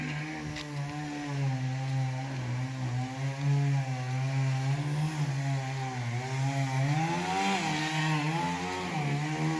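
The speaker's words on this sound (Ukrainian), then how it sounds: "А то там пилка верещить у нас." A saw cutting wood on a farm gives a steady harmonic whine with wavering pitch that shifts as it bites, continuous and fairly close, with no talking over it.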